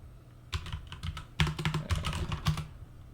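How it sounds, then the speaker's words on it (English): Keys clatter on a computer keyboard as a password is typed, in two quick bursts of close, light clicks after a brief pause, with no talking. "If I type my password correctly would be really good, right?"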